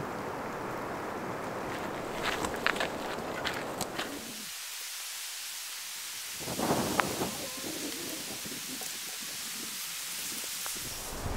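Icy rain mixed with sloppy wet snow falls outdoors on a winter day in Pennsylvania's Endless Mountains, a steady hiss with scattered patters and gusts, broken by a brief lull before the wet pattering resumes.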